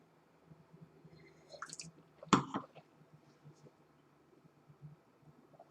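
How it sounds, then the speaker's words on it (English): A mouthful of Cupcake red wine is swished and rinsed around the mouth, producing quiet, wet squishing and slurping with one louder burst partway through, close and otherwise silent. "I always do a complete rinse because I want the complete feel"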